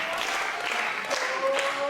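A wrestling crowd at an ESPW event cheers and applauds with a steady broadband roar of clapping and voices, sustained throughout at moderate loudness.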